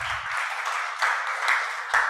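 Round of applause from the audience at a science conference final event, a steady wash of many hands clapping at moderate loudness throughout, with a few brief low thumps.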